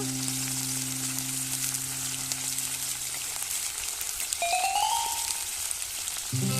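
Puti fish frying in oil with turmeric and chili powder, a steady close sizzle filling the pan while it is stirred, with occasional scraping clinks near the end.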